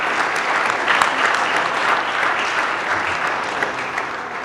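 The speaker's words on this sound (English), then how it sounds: "So give yourselves a round of applause." A large audience claps steadily at a Convention of States gathering at the Ohio Capitol, dense, loud, sustained applause filling the whole stretch with no voices on top.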